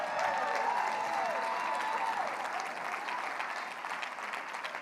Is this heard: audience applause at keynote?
yes